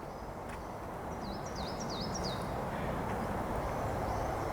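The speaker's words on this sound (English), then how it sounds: "There's one bird that I'm hearing the whole time, just one little birdie." Out in winter woods, one small bird sends a short series of high, faint, swooping whistled notes over a steady hiss of background noise, with no voices.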